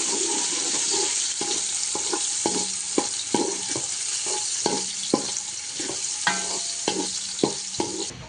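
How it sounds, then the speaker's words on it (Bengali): Ten chopped onions fry in hot oil for Haji-style beef biryani, a steady sizzle broken by rhythmic scraping stirs of a spatula against the pan, close and continuous. "এখানে দিয়ে নিচ্ছি পেঁয়াজ কুচি ওর দিয়ে ভালোভাবে নেড়ে চেড়ে নিতে হবে"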